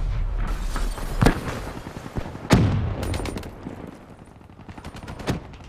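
Gunfire in a Call of Duty: Black Ops III multiplayer match: bursts of automatic fire with several sharp, loud shots and booms standing out, fairly close and continuous across the span.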